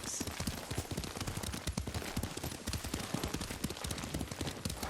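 In the video game Ghost of Tsushima, a horse's hooves pound in a fast, continuous rhythm as it is ridden, close and loud throughout.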